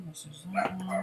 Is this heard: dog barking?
yes